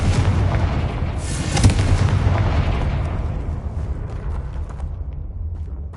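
A Confringo blasting curse from the Hogwarts Legacy video game goes off as a loud, close boom with a sharp crack near the start, then a long rumbling explosion that slowly fades, with no talk.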